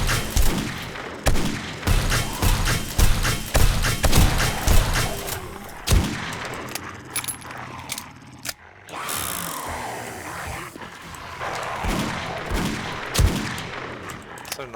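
Gunshots in the video game 7 Days to Die, a long series of loud, sharp shots at irregular intervals, some in quick clusters, with mechanical reloading clicks and a quieter stretch between.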